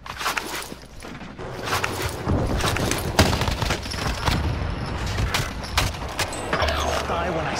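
Rapid bursts of video game gunfire from a battle royale match, sharp repeated shots cracking in quick clusters under excited team voice chat.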